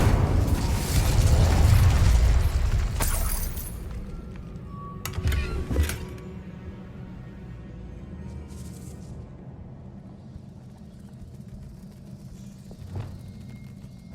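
Confringo and Incendio spell explosions in Hogwarts Legacy, a loud rumbling fiery blast followed by a second sharp burst with crackling debris, then a quieter low game ambience.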